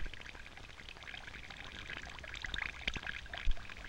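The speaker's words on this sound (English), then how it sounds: "The water clock is at last empty. Enough. Your time is up. The water has all run out." Water trickles and pours out of a water clock, a faint, close, uneven splashing and dribbling with a few louder drips toward the end, heard alone without voices.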